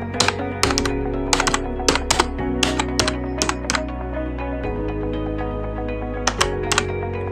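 Keys clatter on a computer keyboard while a document is typed in MS Word, with bursts of quick keystrokes separated by short pauses, close and clear over a steady hum, with no talk.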